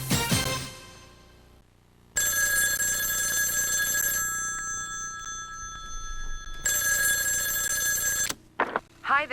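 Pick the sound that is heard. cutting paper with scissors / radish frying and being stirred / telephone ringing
telephone ringing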